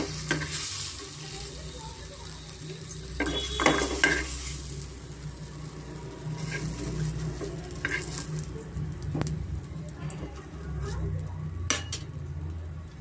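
Raw mango pieces fry in oil for chutney, giving a steady close sizzle broken by scraping stirs and light clinks of a utensil against the pan.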